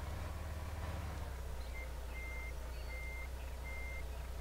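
A truck in Landwirtschafts-Simulator 13 backs up with a forestry mod, its reversing alarm giving regular evenly spaced high beeps over a loud, steady low engine rumble, with no talking.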